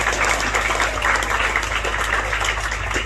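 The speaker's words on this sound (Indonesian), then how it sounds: "Tepuk tangan." An audience at an Islamic religious gathering (pengajian) in Cilacap applauds: a loud, dense, continuous patter of many hands clapping, steady throughout without a voice on top.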